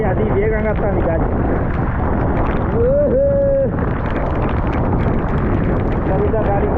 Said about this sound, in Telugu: గాలి అది వేగంగా వస్తుంది గాలి